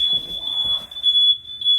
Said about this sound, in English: Every alarm's going off in it.